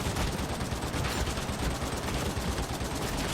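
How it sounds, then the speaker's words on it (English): Sustained heavy gunfire from an Ogryn pouring shots into a horde in Darktide, a loud continuous roar of rapid shots with no break and almost no talk. "Firing into a horde."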